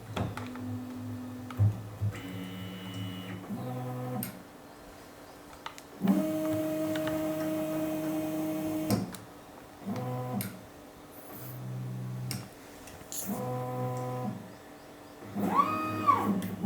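An Artillery Genius Pro 3D printer at work, its stepper motors singing short tonal whines that jump between pitches in stop-start bursts, quiet and near, with faint whirring between moves.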